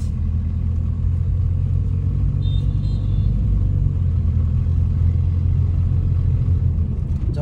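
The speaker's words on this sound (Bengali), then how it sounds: "আমি এখন অ্যাক্সেলেটরে পা দিয়ে গাড়িটা সামনের দিকে নিয়ে যাচ্ছি।" A car engine accelerates on a highway, a loud, steady low rumble of motor and road noise heard from inside the vehicle, continuous throughout with no talking.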